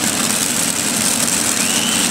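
A 7500 lb class pulling tractor engine runs loud and steady at a tractor pull, a dense continuous roar with strong low rumble and no pauses.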